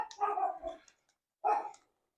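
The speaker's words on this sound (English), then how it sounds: "Sorry about the dog." A dog barking indoors in a home kitchen while sausage is made, two close, loud barks about a second apart.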